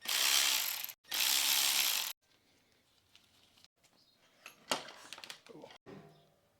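A ratchet wrench loosening a motorcycle front axle during fork removal: two loud, dense bursts of rapid clicking, then quieter scattered clicks and clanks of the tool and parts.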